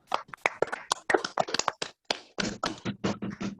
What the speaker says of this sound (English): So can we just clap to them?